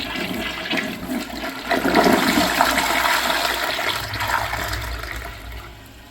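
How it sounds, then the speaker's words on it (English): A first-generation Gerber Avalanche toilet from the 2000s flushes with a strong, steady rush of water that swells and then tapers as the tank drains, close and loud with no talking. "Let's have a look at a flush."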